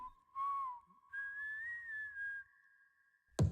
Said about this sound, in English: Whistling in music videos just never works.